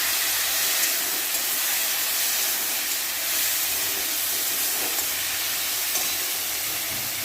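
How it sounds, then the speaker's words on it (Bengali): Water is splashed into frying cumin, radhuni, black pepper and coriander powder. A loud, continuous, close hiss of steam and sizzling follows, with no talking. "একটুখানি জল দেবেন, জিরে মশলাতে একটু জল না দিলে হবে না।"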